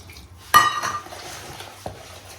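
A spoon clanks against a bowl while chicken is mixed with cornflour and gram flour for crispy pakora: one loud metallic knock, a scraping stir, then a second lighter tap, close up with no talking.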